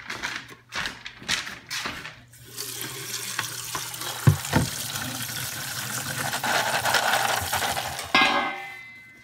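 Steel parts darkened in Insta-Black get a final rinse under running water, a close splashing hiss that rises and falls, with a metallic clink partway through.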